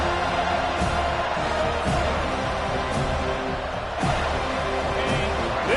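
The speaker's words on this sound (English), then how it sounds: "This crowd bringing the energy and noise early." Constant roar of a large crowd at a Notre Dame vs Florida State football game echoing in an open stadium, a dense wash of distant voices with no single standout cheer.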